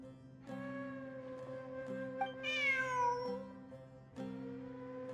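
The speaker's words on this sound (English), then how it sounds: "Look, a cat." Cat in Genshin Impact meowing: a drawn-out, rising-and-falling meow in the middle, close and clear over a steady game music backdrop with soft interface notes, no talk.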